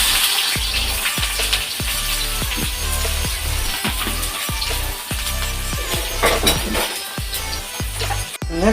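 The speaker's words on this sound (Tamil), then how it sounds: "3 வெங்காயம் நறுக்கி வச்சுருக்கிறேன், அதை இது கூட சேர்த்துக்கிறேன்." Chopped onions hit hot oil with mustard seeds and fry with a loud, dense sizzle, punctuated by regular clinks and scrapes of a spoon stirring the pan, with no talk.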